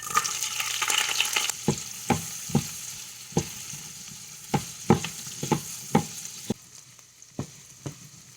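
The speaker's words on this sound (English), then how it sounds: "We're going to sweat some onions." Onions sweating in a pan of oil and butter give a steady sizzle under sharp, regularly spaced clacks of a utensil stirring and tapping the pan, close and moderately loud, with no talking.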